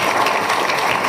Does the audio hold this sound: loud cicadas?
no